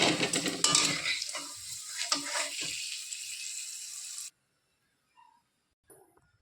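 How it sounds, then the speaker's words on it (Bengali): Dried red chillies and garlic frying in hot oil, a loud crackling sizzle with spatula scrapes that cuts off abruptly partway, followed by near silence with a couple of faint brief clinks. "তেল গরম হয়ে গেছে, দিয়ে দেবো শুকনো লঙ্কা আর রসুন।"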